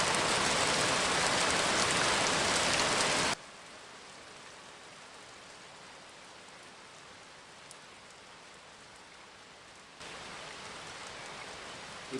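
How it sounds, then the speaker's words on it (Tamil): Steady rain pours down at night, loud and close at first, then dropping abruptly to a softer, more distant hiss before swelling again near the end; no voices. "ஏய் என்ன மழை பெய்யுது?"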